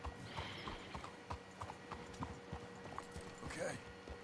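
Horses' hooves clip-clop steadily at a walking pace on a street in the Red Dead Redemption 2 video game, with scattered game ambience and an occasional faint whinny.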